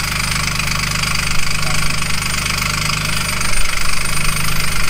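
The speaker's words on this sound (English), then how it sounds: "This is a cheapo grinder." A cheap angle grinder runs continuously with a harsh, steady motor whine and rattle, loud and close, rising slightly near the end.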